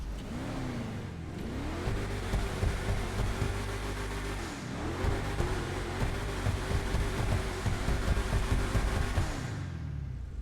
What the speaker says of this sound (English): it's also a very good sounding car, which I would not expect from an SUV, but it does sound like this